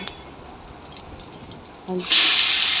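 Vegetables dropped into a little hot oil with cumin seeds burst into a loud, steady sizzle that starts suddenly near the end, after a quieter stretch of faint background hiss.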